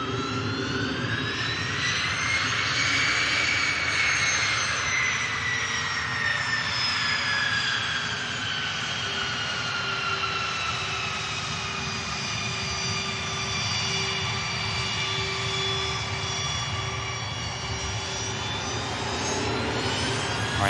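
A Ryanair jet airliner on its takeoff roll at Manchester Airport, a steady loud engine roar with rising and falling whining tones that holds for the whole stretch, with no talking.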